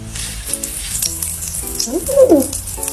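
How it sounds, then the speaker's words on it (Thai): Crackling sizzle like food frying inside a jelly cup noodle snack, with soft popping and bubbling up close, over a faint background hum. "มีเสียงเหมือนกำลังทอดอะไรสักอย่างอยู่ข้างในนี่"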